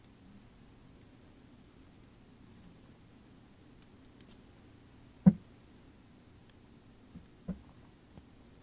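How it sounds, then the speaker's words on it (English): A few faint, isolated snips of scissors cutting excess silicone from a homemade tunnel, one sharper click standing out, then a couple of softer cuts in an otherwise quiet room. "trim off any excess that's left over"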